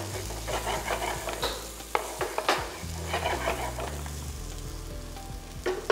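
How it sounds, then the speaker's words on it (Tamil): Onion and capsicum sizzle and fry steadily in a hot pan, with a spatula stirring and scraping through them in repeated strokes and a few sharp clinks against the pan. "ஸோ இந்த ஆனியனோட நம்ம வந்து கேப்சிகம் போட்டு இப்போ நல்லா குக் பண்ணணும்"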